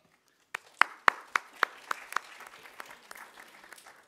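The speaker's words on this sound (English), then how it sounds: "I think we can applaud Diane also." Audience applause at a panel session on ending sexual exploitation and trafficking, starting with a few sharp separate claps that quickly thin into scattered, fading clapping from a small crowd.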